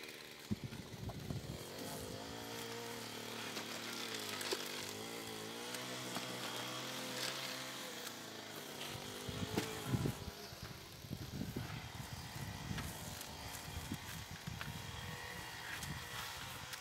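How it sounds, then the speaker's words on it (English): Grass-cutting machinery drones faintly in the background near a caravan. A steady buzzing engine hum carries on throughout, with rustling handling noises up close and no speech. "because they are cutting grass today"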